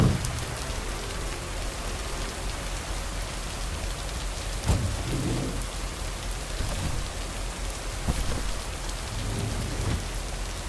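Steady rain pours over the scene with several deep thunder rumbles breaking through, a continuous loud wash of rainfall throughout in a video game world.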